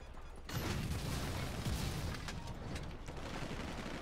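Gunfire in the video game GTA V breaks out as a dense, continuous burst of rapid shots and booms after a brief quiet start, staying fairly faint overall.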